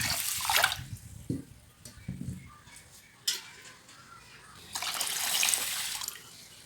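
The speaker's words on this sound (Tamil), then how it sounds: "இதில் தண்ணி ஊற்றி ஊற்றலாம்" Water splashes and trickles into a container of rice for soaking in uneven bursts, quiet and close, swelling into a steadier pour toward the end.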